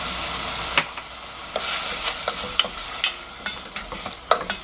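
Oysters and soaked seaweed being stirred in a pot with sesame oil for an oyster rice-cake soup: a sizzle runs throughout, broken by scattered utensil scrapes and clinks at an uneven rhythm, close and moderately loud.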